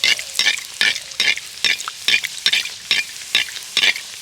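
Rice flour snacks deep-fry in bubbling oil while a utensil stirs in quick regular strokes, about twelve crisp swishes over four seconds, close and loud with a constant sizzle beneath.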